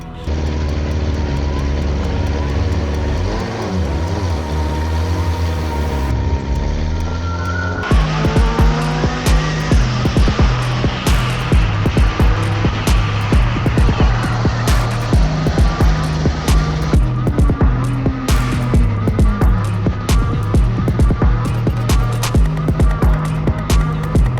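Motorbikes on a race track practicing hard straight-line braking, a loud close engine roar rising and falling through gear changes, then dropping steadily as the bike slows, with wind noise throughout.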